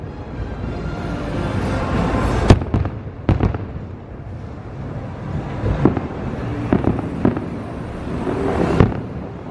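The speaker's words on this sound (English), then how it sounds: "we're going to see some of the fireworks right here" Fireworks at Walt Disney World, seen from outside the Contemporary hotel, loud sharp bursts and crackles echoing at a distance over a constant rumble of crowd and ambient noise, with several big booms spaced irregularly.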